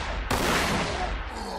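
Gunfire in the Warhammer 40000: Sanctus Reach strategy game: a loud, sudden blast bursts in over an already noisy battle rumble, then the heavy roar sustains and slowly tapers.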